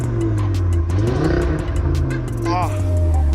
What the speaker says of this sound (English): This is a very, very loud RS3. Let me rev it up for you guys.